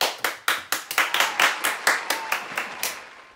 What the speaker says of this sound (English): Let's give a round of applause for Emma Stone.